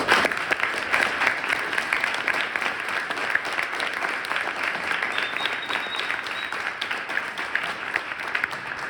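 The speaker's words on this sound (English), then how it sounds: "So give them a round of applause." Sustained applause from a crowd at a cross country team banquet, steady and dense for the whole stretch, with a faint high tone briefly appearing midway.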